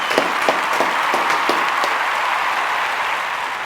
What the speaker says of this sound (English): So please, a big round of applause for our guest.